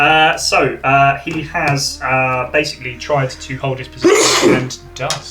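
A man sneezes once, loudly and close, in a burst of breathy noise near the end, after a stretch of steady talk from people chatting.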